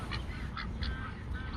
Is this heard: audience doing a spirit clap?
no